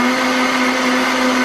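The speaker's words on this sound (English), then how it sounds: "So I'm just going to give her another little mix up here quick." A Vitamix blender whirs loud and steady, mixing fermented ghost pepper hot sauce in a continuous high-speed drone with no pauses.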